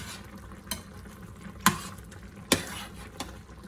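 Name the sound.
stirring Cajun stewed chicken in the pot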